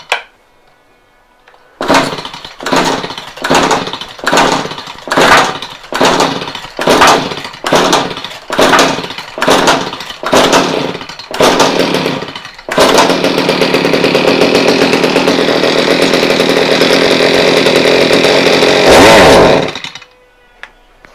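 A Stihl HS45 hedge trimmer's two-stroke engine runs roughly, sputtering in a dozen short uneven bursts before catching into a loud, steady high-revving drone that cuts out abruptly near the end.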